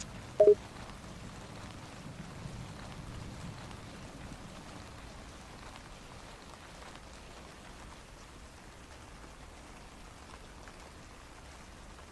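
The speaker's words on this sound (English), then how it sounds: "Nothing quite like the soothing sound of rain on a quiet night." Steady rain falls on a quiet night in a spooky video game, a soft continuous hiss at even level throughout, with one brief sharp click near the start and no talking.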